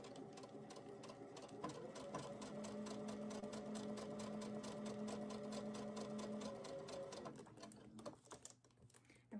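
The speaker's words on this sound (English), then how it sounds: "I'm just doing a piecing stitch and got my 1/4 inch foot on." A sewing machine runs a piecing stitch with a quarter-inch foot, a steady rapid mechanical whirring and ticking held close and loud for most of the clip before slowing to a stop near the end.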